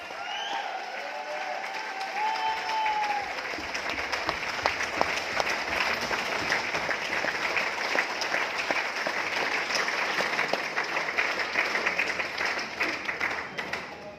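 Loud, sustained audience applause from a large crowd at a public gathering, dense clapping filling the whole stretch with a few brief voices rising out of it.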